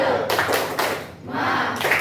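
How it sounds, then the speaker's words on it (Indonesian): An elementary class performs the tepuk semangat clap together, a quick rhythmic pattern of sharp group claps in short bursts with a brief pause in the middle, close and lively. "Kita mulai tepuk semangatnya."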